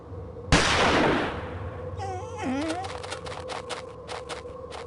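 A single loud gunshot from the 2006 Murder on the Orient Express adventure game rings out near the start and decays over about a second, followed by a cat-like meow and scattered game sound effects.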